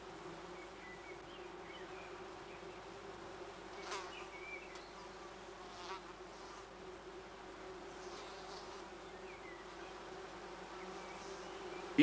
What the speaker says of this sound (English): The only fly in the ointment is actually a wasp.